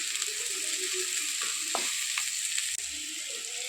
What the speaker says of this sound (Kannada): ಈಗ ಒಂದು ದೊಡ್ಡ ಕ್ಯಾಪ್ಸಿಕಮ್ ಸಣ್ಣಗೆ ಹಚ್ಚಿಕೊಂಡಿರುವ ಅದನ್ನು ಕೂಡ ಹಾಕಿ ಫ್ರೈ ಮಾಡಿ